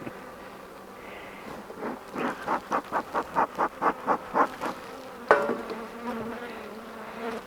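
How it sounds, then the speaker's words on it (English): Honey bees buzz from a hive opened for a spring inspection, a steady close drone with a run of rhythmic pulsing bursts partway through and a sharper knock near the end. "A lot of bees in one place."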